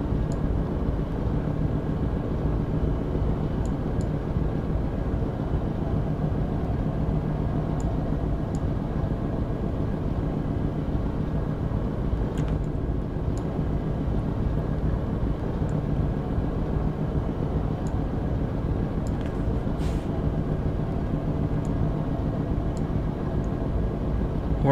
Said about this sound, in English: I have the engine reversed